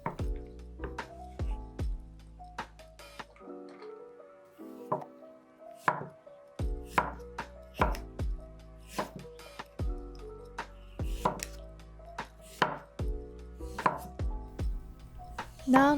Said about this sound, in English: And then slice the ginger.